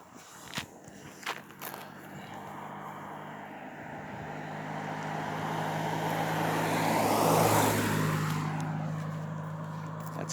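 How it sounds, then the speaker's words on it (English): A car approaches on a quiet rural road in Greece near Stymfalia, its engine and tyre roar swelling steadily from far to close and loud as it passes, then fading, after a few nearby footsteps. "this is the first car we've seen in like a half hour."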